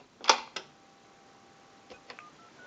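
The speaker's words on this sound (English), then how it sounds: "The analyzer's dialing out the numbers and it will end in a 2." Dialing tones sent by a telephone analyzer through an AT&T 2500 desk telephone under repair: a sequence of short electronic beeps, two louder ones near the start and a few fainter ones at the end, with no talking.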